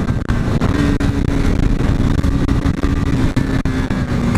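KTM Duke 390 motorcycle on a test ride, a loud, continuous engine drone with steady tone and wind buffeting, recorded close from the rider's position, no voices.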